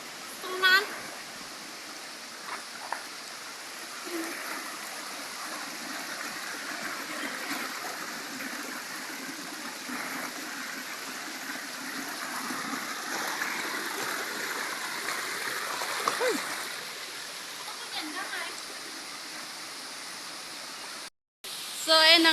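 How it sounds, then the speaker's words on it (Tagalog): Steady broadband rush of the Clarideta Falls waterfall and its flowing stream fills the scene, a constant near wash of water with little variation and no clear voices on top. "Dito na tayo sa Clarideta Falls."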